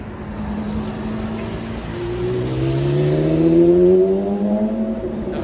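Ferrari Monza SP2 turbo engine in a racing video game at Monaco, a loud steady drone that swells into a rising rev as the car accelerates, with no talk over it.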